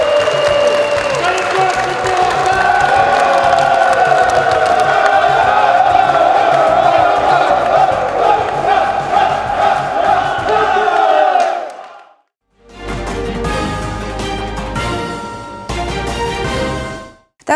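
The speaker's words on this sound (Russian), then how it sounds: "я прошу сказать спасибо и поддержать аплодисментами Андрея Владиславовича" Audience applause and loud cheering with group shouts, sustained for about twelve seconds before cutting off, followed by a brief burst of music.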